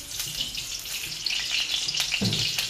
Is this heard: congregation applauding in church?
no